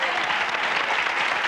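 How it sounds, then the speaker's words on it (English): A TV talk show studio audience applauds steadily, a dense and even wash of clapping heard up close for the whole moment. "Round of applause."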